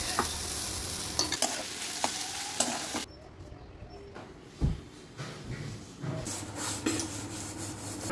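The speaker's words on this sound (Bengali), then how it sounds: "বড়াগুলো সব ভেজে নেব।" Prawn head fritters frying in hot oil, a steady crackling sizzle with stirring and scraping noises, a quieter pause partway through and then the sizzle picking up again with no talking.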